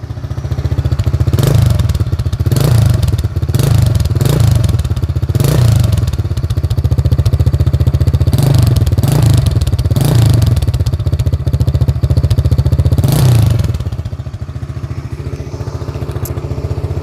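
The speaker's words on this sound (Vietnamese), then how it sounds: "mời các bạn nghe tiếng bô cái ha" A Honda Super Dream 110cc motorcycle engine idles with a steady low thrum from the exhaust, with repeated throttle blips rising and falling, loud and close.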